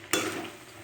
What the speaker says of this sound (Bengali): এবার আমি এটা খুব নাড়বো, এখন খুব করে নাড়তে হবে